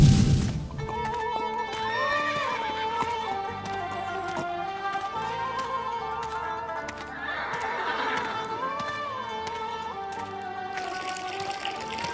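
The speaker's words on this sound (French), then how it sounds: "Ces chevaux attachés ne sont pas en mesure de boire tout seuls." Tethered horses neighing in hot weather at a camp, whinnies rising over a steady bed of music, with faint hoof clops and no speech.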